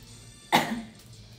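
A single sharp cough bursts out close to the microphone in a quiet room, one short harsh burst with a brief rough tail, from a young woman who has bronchial asthma.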